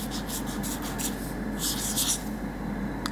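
A Pilot Frixion erasable marker is drawn across paper in quick, repeated scratchy strokes, close and steady, with brief pauses between bursts of writing over a constant low room hum.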